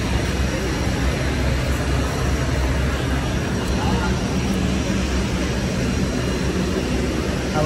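Passenger airplane on a short flight from Kathmandu to Pokhara, a steady loud engine drone filling the cabin without letup, with voices talking faintly underneath.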